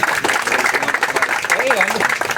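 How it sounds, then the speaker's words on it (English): A crowd applauds a construction company manager at a groundbreaking ceremony, with dense, steady clapping filling the whole stretch while a voice talks over it. "Let's give him a round of applause."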